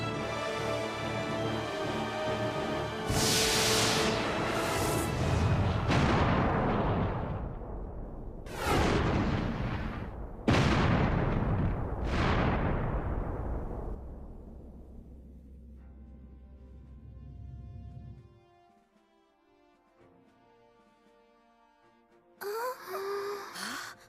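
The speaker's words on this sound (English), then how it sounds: "Incoming fire from the unknown vessel." An enemy ship fires on the player's vessel in the Star Ocean: The Last Hope video game, with several heavy booming blasts and rumbling impacts in quick succession, then a near-silent lull and a brief burst of sound at the end.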